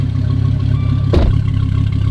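A Dodge car with its stock exhaust idles close by, a steady low rumble that holds even throughout, with a brief clattering surge of noise about midway.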